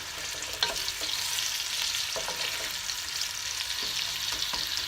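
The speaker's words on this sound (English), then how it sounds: "Next, in with the onions," Onions sizzle in olive oil in a tagine dish, a close, steady frying hiss broken by the occasional scrape and tap of stirring, with no speech.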